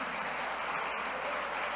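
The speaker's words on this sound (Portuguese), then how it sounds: "Ele merece muito mais palmas" A church congregation applauds during a service: a continuous, even wash of clapping from a crowd, faint and somewhat distant, with no voices standing out.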